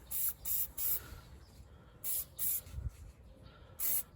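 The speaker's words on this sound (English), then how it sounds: "Next, some penetrating oil on the front bushings bolt." Penetrating oil sprayed from an aerosol can onto a front control arm bushing bolt of a 2014 Kia Sportage 2.0 CRDI: five or six short, bright hissing bursts in quick succession, close and alone, with brief pauses between them.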